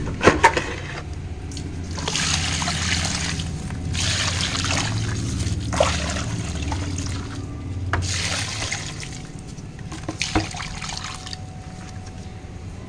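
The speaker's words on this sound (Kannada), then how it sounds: "ಎಲ್ಲ ಗಿಡಗಳಿಗೂ ಕೂಡ ಒಂದು ಸ್ವಲ್ಪ ನೀರೋದು ಹಾಕ್ತೀನಿ" Water being poured onto potted plants at night, trickling and splashing in several separate bursts with short pauses between them, close by and moderately loud.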